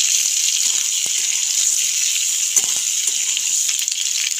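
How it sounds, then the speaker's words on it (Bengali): Amla, Indian gooseberries, frying lightly in hot oil with whole green chillies in the pan, giving a steady close hiss and sizzle with faint scattered pops and stirring taps throughout. "একটু হালকাভাবে আমলকিগুলো তেলের মধ্যে ভেজে নেব"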